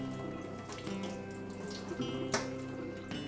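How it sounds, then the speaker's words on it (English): Tap water runs steadily into a kitchen sink while a whisk is rinsed, a soft continuous splashing flow with a few brief clinks, no talking. "Just cleaning this whisk."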